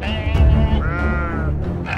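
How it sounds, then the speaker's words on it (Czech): Bloodthirsty sheep bleat in a Czech mobile audio game for blind players, To the Dragon Cave, a loud wavering bleat over a dense rumbling game soundscape, with a second cry following and no talk. "Krvelačné ovce."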